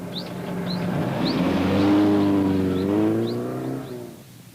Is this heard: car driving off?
yes